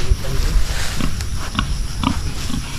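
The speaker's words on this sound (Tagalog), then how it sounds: "Ayan yung mga baboy" Free-range pigs on a farm plot in drizzly weather give several short, low grunts and snuffles at close range over steady outdoor background noise, with no talking.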